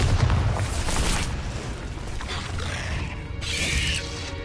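Spell blasts from the Bombarda explosion charm in Hogwarts Legacy, a dense rumbling boom with crackling debris and mechanical clatter, loud and sustained with a second burst near the end.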